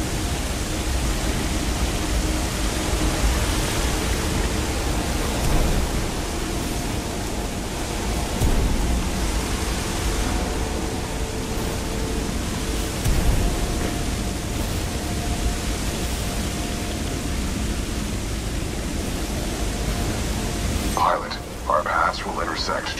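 A strong current of sludge flows in the Titanfall 2 video game, a continuous broad rushing wash that holds steady throughout, with a few faint clicks near the end.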